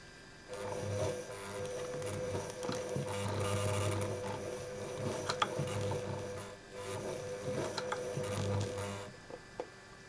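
Vintage Singer 201k sewing machine running in reverse through two layers of roughly 10 oz leather, a steady close mechanical whir with rhythmic thumping stitches that pause briefly partway through.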